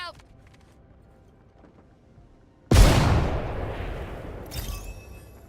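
A frag grenade in Apex Legends detonates with one loud, sudden blast after a quiet stretch, its rumble lingering and fading over several seconds with a brief crackle near the end, and people talking in the background.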